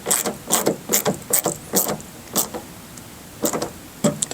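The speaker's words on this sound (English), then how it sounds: "then we're going to fully tighten our screws down" A ratcheting tool tightens screws on the fender clamp of a mud flap on a 2020+ Chevrolet Silverado 2500/3500 HD, making close, loud bursts of rapid clicking in an uneven rhythm with brief gaps between them.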